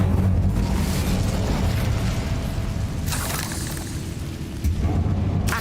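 An Incendio fire spell is cast in Hogwarts Legacy, giving a loud, continuous roaring whoosh of flame with sharp bursting flares partway through, heard alone with no talking.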